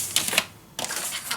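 Paper being cut down to size for a handmade Christmas mini album, a few crisp, close snipping or slicing strokes in quick succession with a short pause between them.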